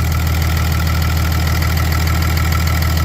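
A Cummins diesel engine idles steadily nearby after EGR cooler removal, a low, even rumble with a faint rhythmic knock and no voices.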